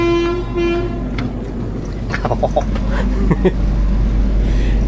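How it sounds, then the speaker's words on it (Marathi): A train horn sounds twice in short toots over a steady, heavy rail rumble, followed by clanking and rolling noise as the Mandavi Express departs Vaibhavwadi Road station on the Konkan Railway. "सुटेल आता ट्रेन"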